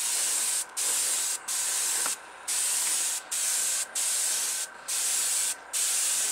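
Testors Aztek airbrush spraying blue acrylic paint onto a model car body, a steady close hiss broken into about eight bursts by brief pauses, with no talking.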